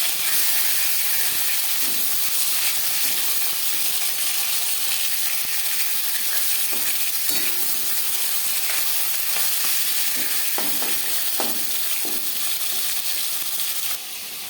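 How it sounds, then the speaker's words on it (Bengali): Bhola fish frying in a pan for a fish curry gives a loud, steady, close sizzle and hiss, with a few small crackles and pops throughout and no voices. "একটা সাইড ভাজা হয়ে গেলে অপর সাইডটা উল্টে দেবো।"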